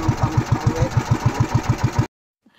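A small motor engine on a vendor's vehicle chugs nearby with a steady, even knocking rhythm for about two seconds, then cuts off abruptly into near silence.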